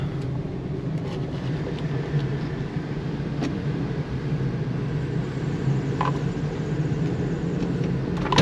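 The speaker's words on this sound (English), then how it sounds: "Not a bad wheel bearing here, it sounds like too." A Subaru Impreza wagon with a worn wheel bearing and a bad belt drives along with a steady rumbling road and drivetrain drone from inside the cabin, moderately loud and continuous, with no talking.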